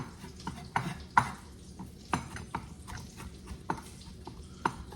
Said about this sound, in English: And I took 6 cloves, and that's what I'm chopping up.